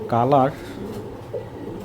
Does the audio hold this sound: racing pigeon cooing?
yes